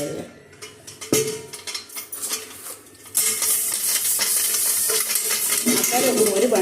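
A pile of dishes washed at home: plates and cutlery clink and clatter, then a tap opens and steady running water fills the background while utensils keep knocking together close by.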